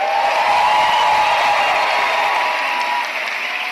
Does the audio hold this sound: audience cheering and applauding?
yes